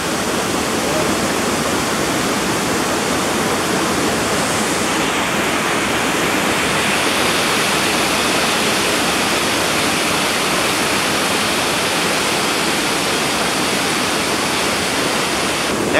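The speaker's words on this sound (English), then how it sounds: "That's the waterfall." Malabsay waterfall on Mt. Isarog roaring steadily, a dense, loud broadband rush of falling water that stays constant from start to finish with no voices.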